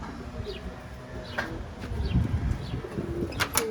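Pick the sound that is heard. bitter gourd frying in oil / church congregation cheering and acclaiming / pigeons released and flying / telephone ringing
pigeons released and flying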